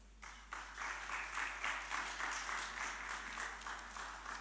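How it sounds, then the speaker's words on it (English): Audience members at a public debate on beauty and standards in Nkoyoyo Hall clap for a speaker. The applause is soft and somewhat distant, with a sharp rise in the first half-second before it settles into even, continuous clapping from a modest crowd. "Let's give another round of applause to Reverend Dr. Feta"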